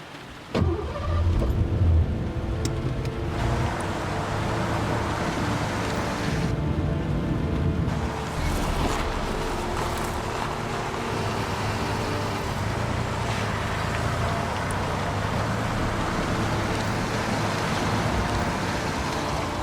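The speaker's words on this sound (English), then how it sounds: "Let's get in the car and get away." Car driving away in the video game Heavy Rain, opening with a door thud and then a steady engine drone with road and wind noise, moderately loud.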